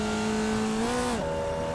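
A Formula Vee racer in iRacing revs hard, its engine note climbing steadily and then dropping sharply as it shifts, a loud, close, continuous buzzing drone with no talk over it.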